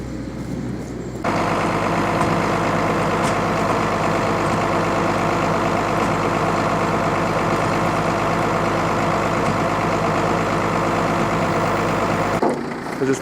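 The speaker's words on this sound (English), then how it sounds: "And the tow truck has just turned up." A tow truck idles at a remote 4WD track, a loud steady low engine drone that starts abruptly after a second and holds evenly until cutting off near the end.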